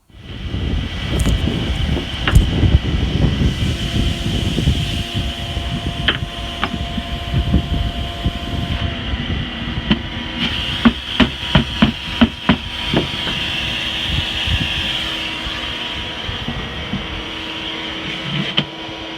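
A steady mechanical whir and hum from a homemade vegetable seeder powered by a vacuum cleaner in a greenhouse, with a string of sharp clicking taps partway through; no one speaks.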